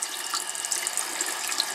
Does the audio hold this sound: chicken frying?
no